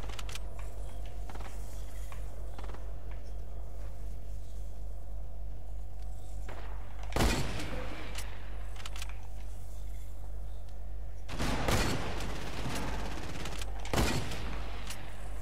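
Gunshots ring out in a Fortnite match, a few sharp loud bursts breaking over a steady low in-game background hum.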